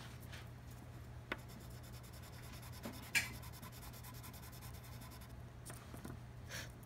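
Chalk pastel held on its side and rubbed very lightly across paper, giving faint, soft scraping strokes with a few small taps, quiet against a low steady hum.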